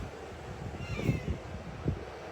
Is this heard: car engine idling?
no